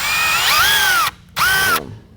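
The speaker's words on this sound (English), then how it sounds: "we're going to slowly start drilling right on this center point through the" A power drill bores a pilot hole through gaffer's tape on a helmet, two loud whining bursts rising and falling in pitch, separated by a brief pause, with no talking.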